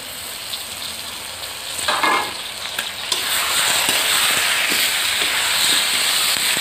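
Country chicken meat fries in a spice paste seasoned with bay leaves, a close sizzle that swells suddenly partway through into a loud, steady hiss with occasional crackles and no speech.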